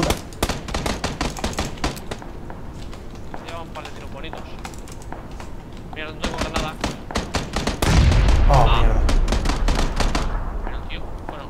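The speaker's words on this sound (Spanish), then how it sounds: "Tiros aquí a mi izquierda." Rapid bursts of video game gunfire crack repeatedly, with sharp shots scattered throughout and a louder, denser stretch of firing near the end.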